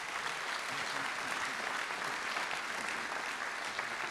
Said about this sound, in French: Et Franck Gacon va à présent vous remettre votre trophée sous les applaudissements du public.